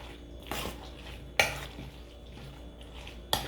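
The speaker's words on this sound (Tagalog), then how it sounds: "Halo lang, halo." A spoon stirs food in a metal pot in a home kitchen, three distinct clanks and scrapes against the pot spaced about a second apart, close and fairly quiet with a soft background hum between them.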